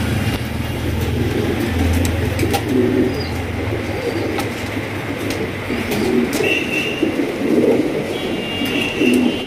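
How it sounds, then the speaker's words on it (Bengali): A pair of Lahori pigeons coo softly in short bursts against a steady background rumble of passing traffic or a train. "এখানে রয়েছে একজোড়া লাহোরি কবুতর দেখতে পাচ্ছেন"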